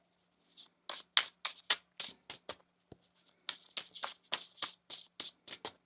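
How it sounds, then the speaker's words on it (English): A deck of tarot cards being shuffled by hand in a quiet room, a run of crisp riffling bursts, a short pause, then another quick series of close, papery flutters with no talking. "Let's get one more shuffle here"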